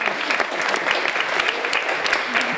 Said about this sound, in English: So I guess we can clap our hands for Roberta